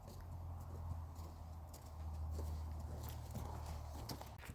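Horse named Rosie walking over ground poles during pole work, hooves clip-clopping in a slow, even rhythm against a low, steady background hum.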